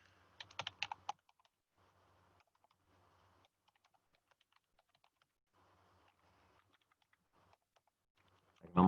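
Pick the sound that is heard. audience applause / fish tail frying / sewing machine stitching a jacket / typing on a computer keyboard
typing on a computer keyboard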